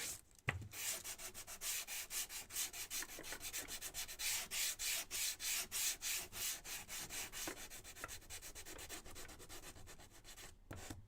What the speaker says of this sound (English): I'm going to go ahead and pre-sand